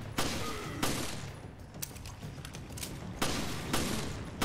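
Sharp gunshots crack from a weapon in Resident Evil Village, about five separate reports at irregular intervals, fairly close, with no speech.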